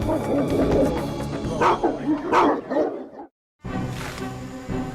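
Dogs of war barking, a dramatic sound effect of several dogs yapping and whimpering in overlapping bursts, a brief silent gap, then more barking.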